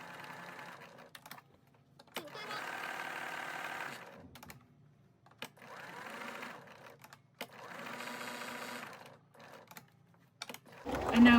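Bernina Activa sewing machine stitching fabric in several bursts of steady, fairly quiet whirring, separated by short pauses as the fabric is turned at corners; a clunk closes the sequence.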